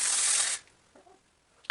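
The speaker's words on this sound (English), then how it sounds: "I'm just gonna spray it right in there." An aerosol spray can hissing into a Honda ATV part, a loud close burst lasting about half a second, then a few faint clicks and a brief rattle.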